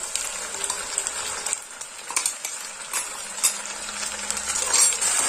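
Ground spice paste is stirred into potatoes frying for a potato stew, bringing a soft sizzle under irregular scraping and clinks of a spoon against the pan, close and moderately quiet.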